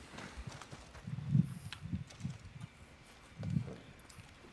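A horse's hooves clop in the game Red Dead Online: a handful of muffled, uneven thuds in two small clusters, with quiet gaps between them.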